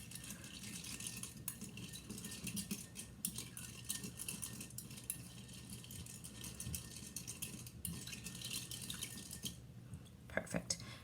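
Chocolate chips clink and rattle against a bowl as they are stirred into a pumpkin dessert mixture, with a steady scraping and tapping that runs close and continuous.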